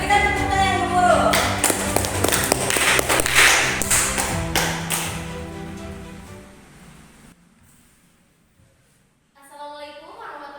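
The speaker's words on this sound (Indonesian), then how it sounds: "Berikan tepuk tangan yang gemuruh." An audience at a school arts and culture performance claps in a dense burst that gradually fades to quiet, with a voice heard at the start and again at the end.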